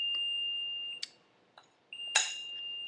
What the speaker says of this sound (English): So we have our little timer going off.